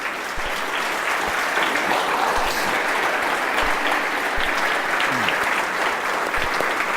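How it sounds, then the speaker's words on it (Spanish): A church congregation gives loud, steady applause after a sermon, a thick wash of many hands clapping continuously for the full seven seconds with a faint voice briefly audible underneath. "Dale un aplauso bien fuerte al Señor"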